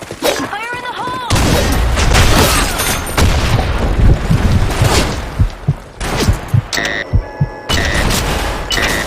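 Grenade explosions and gunfire boom loudly in a Sand Storm map of an online shooter, with repeated blasts, bursts of shots and sharp impacts over continuous combat noise.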